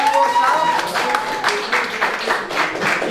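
Applause for Miłosz after a successful trick in a vape battle, with scattered clapping and cheering voices mixed in, moderately loud and close for about three seconds.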